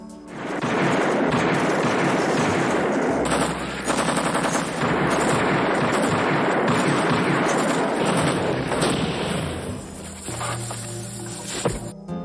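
Sustained bursts of machine gun fire during a jungle ambush, loud and continuous with rapid rattling volleys that keep going for several seconds before thinning into scattered shots near the end.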